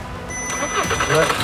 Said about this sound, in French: Il démarre le moteur.